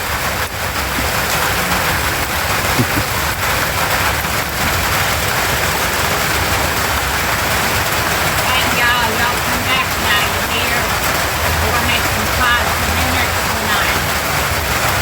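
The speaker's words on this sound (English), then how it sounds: "Getting rained on." Steady rain falls outdoors beside a pond, a dense continuous hiss lasting throughout at even loudness, with faint speech-like murmurs mixed in.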